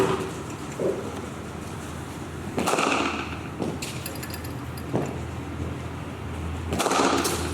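Cricket bat striking balls during front-foot batting practice, sharp cracks spaced a few seconds apart, several in a row, fairly close against a steady background hum.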